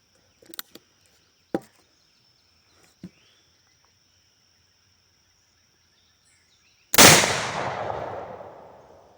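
A .44 Magnum revolver firing black powder substitute loads sends out a single loud, sharp shot that rings and decays over about two seconds. Several faint clicks and taps come before it.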